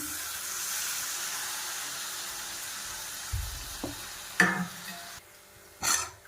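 Chopped tomatoes drop into a hot pan, bringing a soft background sizzle and a few sharp clatters and knocks of utensils against the pan in home-kitchen cooking.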